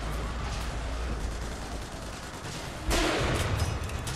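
A sniper rifle fired in BioShock Infinite during combat, a sharp loud burst near the end that cuts through a dense, noisy backdrop of battle and rumble.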